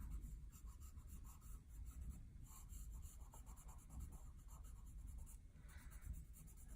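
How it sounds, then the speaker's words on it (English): A blending stump rubs soft 8B pencil graphite into paper on a colored ground, making a steady, close, dry scratchy rasp that runs continuously throughout. "Then I'm going to work that stump into this pencil."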